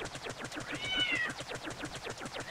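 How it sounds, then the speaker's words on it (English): A roommate's cat meows near the microphone over about two and a half seconds, a rising and falling cry heard over background game audio. "That's Jimmy, he's my roommate's cat. He's a pretty nice cat."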